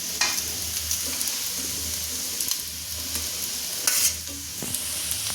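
Boiled chowmein noodles being stir-fried with vegetables for egg chowmein: steady sizzling in the pan with repeated scraping and tossing strokes, a couple of louder clatters near the start and around four seconds, no voices.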